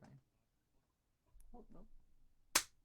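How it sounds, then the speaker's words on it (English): A sad, sparse clap sound effect plays from a sound file after scattered quiet clicks and soft murmuring, ending in one sharp, bright clap burst. "That's the sad clap."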